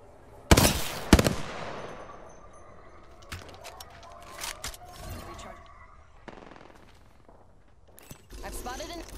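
Bursts of gunfire ring out in the Apex Legends video game, with two sharp loud shots near the start and then scattered, fainter shots and game effects, while a voice calls out between them.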